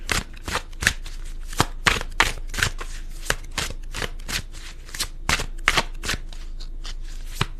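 Crisp, rapid riffling and snapping of tarot cards being shuffled close up, a steady run of sharp bursts with no talking.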